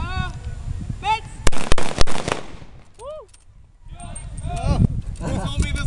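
A feu de joie rifle volley rattles off as rapid overlapping cracks and pops from a line of shooters, mixed with shouting and whooping voices close by, then a brief lull before cheering resumes.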